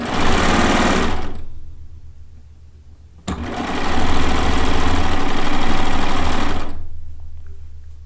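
A sewing machine pieces a quilt top in bursts: a fast whirring run of about a second, a pause, then a longer steady run of roughly three and a half seconds, close and loud.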